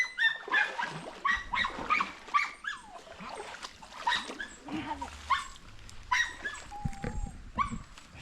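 Dogs on a Filipino farm bark in short repeated bursts, loud and close, mixed with whimpers and yelps, while a person briefly speaks among them.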